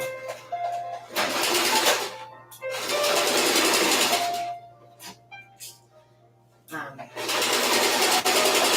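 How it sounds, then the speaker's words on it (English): A sewing machine stitches fabric for a slip in three loud, whirring bursts of about one to two seconds each, separated by short pauses. "All right, I'm going to sew now."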